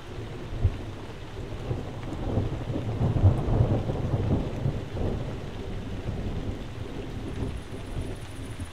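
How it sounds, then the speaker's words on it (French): Rolling rumbles of thunder build and fade over a steady patter of rain, with the loudest swell in the middle, recorded with an Audio-Technica BP4025 stereo microphone. "je vais pouvoir enregistrer les sons d'orage"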